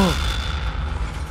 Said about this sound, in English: Explosions in the heights.